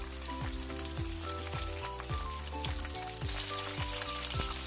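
Starch-coated shrimp balls, taken straight from the freezer, fry in hot cooking oil with a steady, dense crackling sizzle throughout. Over the sizzle come repeated low tonal hums and clinks, with no talking.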